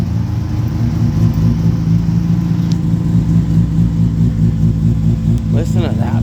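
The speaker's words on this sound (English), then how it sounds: "This truck's got a completely built turbocharged motor." A truck with a fully built turbocharged motor and a full roll cage idles and revs with a steady low rumble, nearby and continuous, with a brief sharper burst near the end.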